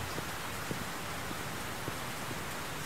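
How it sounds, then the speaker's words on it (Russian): Heavy rain pours steadily in The Black Mirror 3, a dense even hiss with occasional louder drops and no voices. "Только шум дождя."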